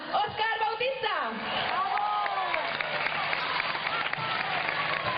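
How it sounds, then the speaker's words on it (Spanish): Concert crowd in Sueca, Valencia, applauding and whooping for the keyboardist of a singer's band, a broad, sustained wash of clapping from a large audience, with a voice and music over it. "Un fortísimo aplauso para Óscar Bautista."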